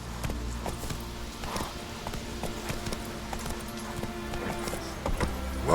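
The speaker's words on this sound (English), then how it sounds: "Whoa there, Roach." Horse hooves clip-clopping at pace while riding through the world of The Witcher 3, a steady run of hoofbeats over game ambience with a brief snort or whinny near the end.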